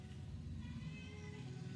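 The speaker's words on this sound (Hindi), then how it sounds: "अब मम्मा बिल्ली हमको देख के आ रही है।" A mother cat gives a faint, drawn-out meow in a quiet outdoor setting, a single soft call over low background noise.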